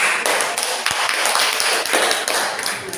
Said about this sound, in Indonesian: kita berikan aplaus untuk kelompok 4